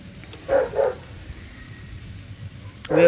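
A neighbor's dog barks outdoors during a Memorial Day weekend grill-out, two quick barks close together followed by another after a short pause, moderately near over steady background noise.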